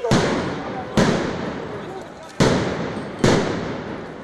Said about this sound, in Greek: Η αστυνομία απάντησε με ρήψη χειροβομβίδων κρότου λάμψης.